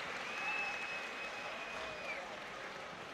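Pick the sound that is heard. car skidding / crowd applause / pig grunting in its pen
crowd applause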